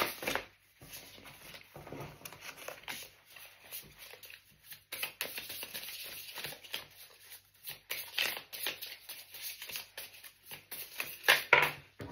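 A deck of playing cards being shuffled by hand, riffled and shuffled in repeated papery bursts over several seconds, close and fairly quiet, with no voice.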